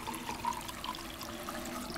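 Tap water running into a bottle in a bathroom in the game Life Is Strange 2, a steady, even pour lasting the whole stretch at moderate level with no talk.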